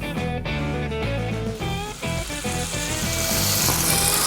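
Three beer-battered onion rings dropped into hot oil fry with a steady sizzle that builds over a few seconds, partly under prominent background music.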